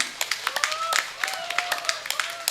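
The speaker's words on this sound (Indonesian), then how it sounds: "Tepuk tangan dulu dong buat panitianya." An audience at an Islamic religious gathering claps for the organizing committee, a scattered burst of hand claps heard under a speaker's voice.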